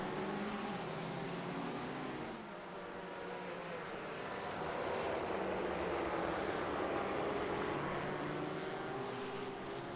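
BMW and Ford race cars circle the Okayama circuit in single file in the GT Challenge, giving a steady, continuous engine drone with rising and falling pitch. The sound is moderately loud and has no talk.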